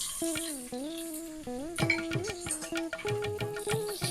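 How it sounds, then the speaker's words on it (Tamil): Bitter gourd pieces tipped into hot oil with mustard seeds, fenugreek and curry leaves, giving close clinks of pan and utensil over a steady sizzle and crackle, with a tonal hum running throughout. "கட் பண்ணி வச்சிருக்கிற பாவக்காவை சேர்த்துக்கலாம்."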